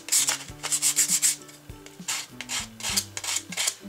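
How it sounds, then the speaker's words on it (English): A painted miniature wooden furniture piece is sanded by hand in short scratchy strokes that rise and fall in quick bursts, close and fairly loud, with no voices. "You don't have to sand it carefully, you're just trying to get the surfaces as smooth as possible."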